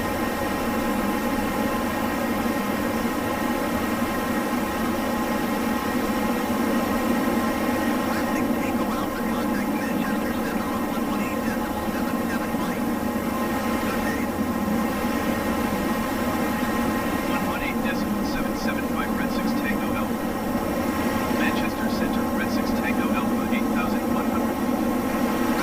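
Steady loud jet engine roar of a BAE Hawk T1 Red Arrows trainer cruising in a flight simulator game, a continuous broadband whine and rumble with no breaks, filling the whole stretch.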